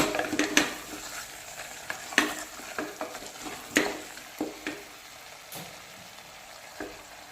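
Garam masala spices fry in a pan while being stirred, with repeated sharp scraping and clinking strokes of the spoon over a quiet sizzle, close and irregular, without talking.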